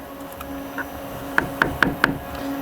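An ice cream machine churns at slowed speed while crushed waffle cone pieces are blended in, giving a steady motor hum with a quick run of four sharp knocks near the end.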